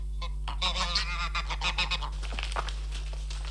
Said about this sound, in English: Fine flocks of geese and a pet of a gander feeding out of a pot